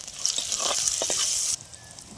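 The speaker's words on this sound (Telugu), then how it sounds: "అదే నూనెలో ఉల్లిపాయలు కూడా వేసేసుకుంటున్నానండి కూరలోకి." Sliced onions sizzling in hot oil for a cucumber curry, a steady close frying hiss with a few stirring knocks, which cuts off abruptly partway through and leaves only faint background.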